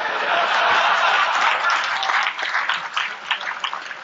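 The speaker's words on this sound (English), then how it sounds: "that got a lot of applause" Conference-hall audience applauding a talk: a burst of dense clapping that thins out toward the end, with scattered chuckles and voices mixed in.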